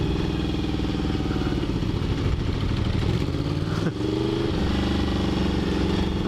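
A supermoto motorcycle on supermoto tires rides along with a steady, loud engine drone that shifts pitch slightly with throttle, heard up close without talk.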